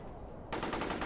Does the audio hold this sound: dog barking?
no